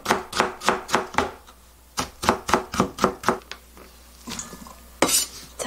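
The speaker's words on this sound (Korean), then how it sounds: "채를 한번 썰어보겠습니다" A knife cuts potato into thin strips on a board: quick rhythmic bursts of sharp chopping knocks, several strokes per second, in two runs separated by a short pause, close and loud with no speech.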